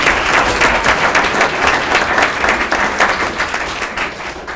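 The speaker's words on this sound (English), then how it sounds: "That deserves a round of applause there" A township council meeting audience gives a round of applause for a middle school girls softball team, a loud, dense spell of clapping that continues without pause.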